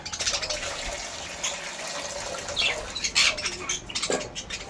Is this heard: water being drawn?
yes